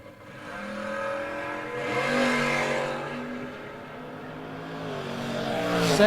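A Camaro drag racing car revs hard at the launch, its engine note climbing and holding steady at high volume, close and alone with no speech over it.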